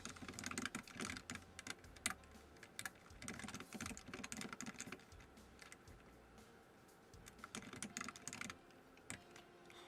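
Steady typing on a computer keyboard while entering text in Canva, close and clear, with irregular runs of key clicks and brief pauses continuing throughout, no talking.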